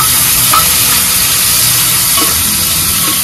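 Steady, loud sizzling of tomatoes frying in a hot pan for a Malvani-style prawn curry, a continuous hiss with faint occasional stirring.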